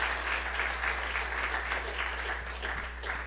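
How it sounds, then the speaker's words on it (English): Steady applause from a church congregation celebrating a member's life, dense overlapping clapping held at a constant level for a few seconds, with a low steady hum beneath it. "So let's give her a round of applause."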